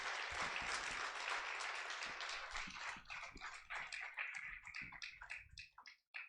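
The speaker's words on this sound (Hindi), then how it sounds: "तालियां बजाइए" At a Hindi poetry recital, an audience claps loudly and densely, then thins into scattered individual claps that fade out near the end.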